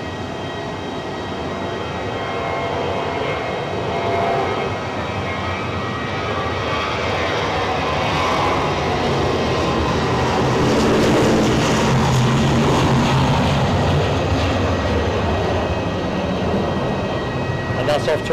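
An Airbus A320 jet on its takeoff roll at Zurich Airport sends out a loud, broad engine roar that builds and swells over many seconds, heard from a distance with people chatting over it.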